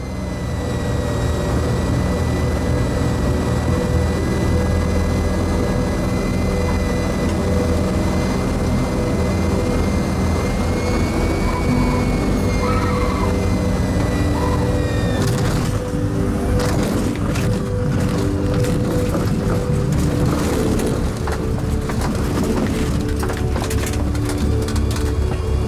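A light airplane comes in too fast on a runway lined with trees. Its engine and wind roar stay loud and constant throughout, and rough, rumbling scraping sets in about midway as it touches down and brakes while skidding sideways.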